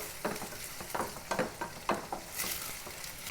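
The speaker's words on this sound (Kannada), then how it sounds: "ಸೊ ನಮ್ಮ ಈರುಳ್ಳಿ ಇವಾಗ ಫ್ರೈ ಆಗೈತಿ" Onions fry in a pan, a sizzling hiss broken by a series of sharp scraping stirs about every half second, close and clear with no voices.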